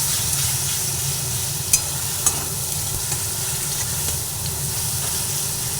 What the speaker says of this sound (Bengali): সব দিয়ে দেওয়ার পরে ভালোভাবে নাড়াচাড়া করে নিচ্ছি